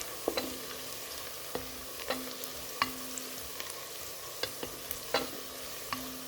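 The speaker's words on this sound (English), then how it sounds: "So here our onions are here cooking well." Onions frying for pilau give off a steady background sizzle, broken every second or so by the sharp scrape and clack of stirring. No one speaks over it.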